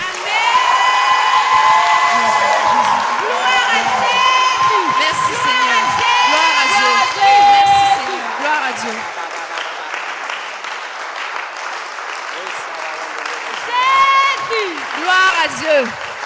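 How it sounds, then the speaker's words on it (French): Church congregation at a Sunday service cheering and applauding, sustained loud clapping mixed with whoops, shouts and high exultant voices, swelling and easing over the long stretch. "Est-ce que tu peux acclamer encore ton Dieu?"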